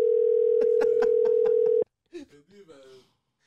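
A telephone dial tone hums in a loud steady pitch for almost two seconds and then cuts off abruptly, with short clicks over it. Brief speech follows after a short silence.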